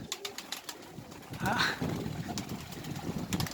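Pigeons in a coop coo softly with a throaty burble, set against faint background clatter and distant indistinct sounds.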